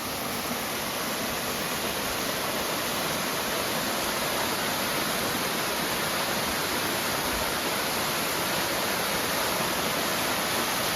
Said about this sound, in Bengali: দেখাই তোমাদের সীতা ফলস।